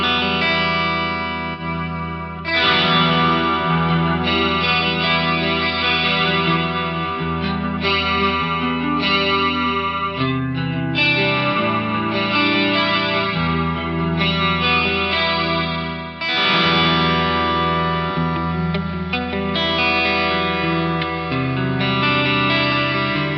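Electric guitar played through Eventide H90 chorus and reverb effects, a continuous strummed and picked passage with shimmering, swirling modulation and a lush reverb tail, loud and steady throughout with no talking.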